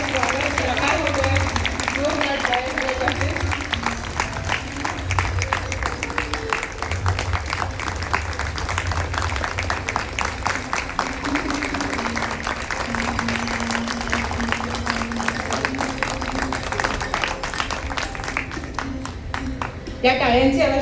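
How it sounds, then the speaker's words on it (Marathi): An audience at a cultural event in Talegaon Dabhade applauding, dense sustained clapping across the whole stretch, with voices underneath. "या टाळ्यांची आवश्यकता आपल्याला कायमच कलापिनीमध्ये भासत असते"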